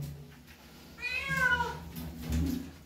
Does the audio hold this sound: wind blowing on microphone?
no